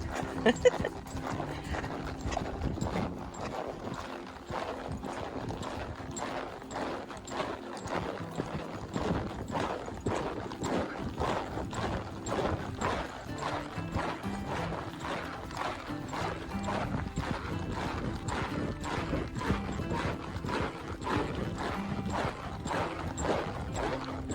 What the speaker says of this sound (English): It is a little tough to film smooth at a canter.